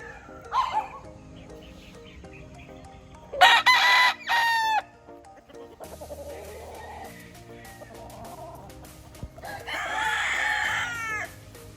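Texas gamefowl roosters at a game farm crow in two clear bursts, one loud and close, another slightly softer later, with scattered clucks and farm noise between.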